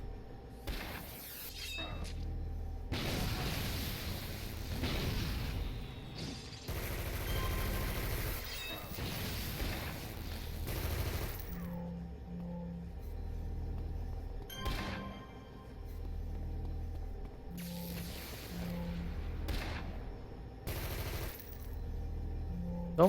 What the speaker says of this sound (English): Don't mind me just shooting the guy that's standing right in front of you. And blasting your precious mainframe into nothing.